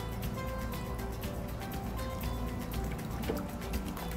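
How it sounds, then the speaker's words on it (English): Water trickles slowly and steadily from a watering can over a Las Vegas desert tortoise, a soft continuous splashing and dripping that stays close and even throughout. "Watering can, it just kind of comes out slow."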